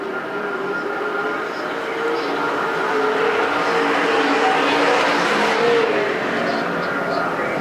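Super Stock race cars battling at Perris Auto Speedway, their engines blending into a loud, steady roar that swells slightly midway, with an announcer's voice running over the racing.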